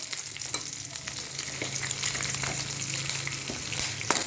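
Green chilies tempering in hot oil, crackling with a steady dense sizzle throughout, with a few sharp pops and utensil taps, close and fairly loud.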